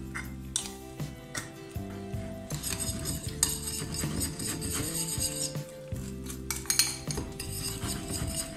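Potatoes are stirred with breadcrumbs and sweet paprika in a bowl, giving a close, irregular scraping, clinking and rubbing of a utensil against the bowl, with brief pauses between strokes.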